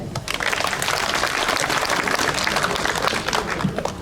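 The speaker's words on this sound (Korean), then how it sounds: "어신 김철규님 박수!" Steady, dense applause from a crowd at a fishing club award ceremony, a continuous wash of many hands clapping without pause throughout.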